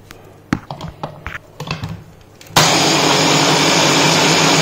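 A few clicks and taps, then a mixer grinder starts abruptly and whirs loudly and steadily as it blends gram flour batter for khandvi.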